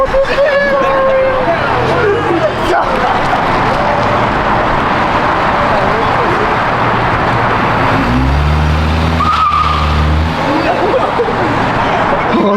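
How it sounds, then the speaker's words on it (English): Dodge Hellcat engine revving at a car meet in LA, a deep rumble rising near the end over loud crowd chatter and street noise, with people talking throughout. "he got the Hellcat engine in this bitch"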